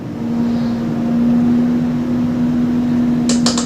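An electric mixer creams butter and sugar for tart cherry pistachio shortbread dough, holding a loud, steady motor whine throughout, with a few quick clicks near the end.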